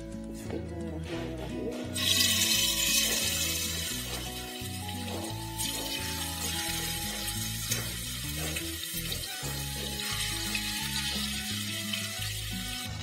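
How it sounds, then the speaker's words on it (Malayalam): Pieces of tuna go into well-heated coconut oil, setting off a sudden burst of sizzling that settles into a steady, bright hiss running on under soft background music. "ഇവിടെ വെളിച്ചെണ്ണ നല്ലോണം ചൂടായി. ഇനി അതിലേക്ക് മീൻ ഇട്ട് കൊടുക്കാം."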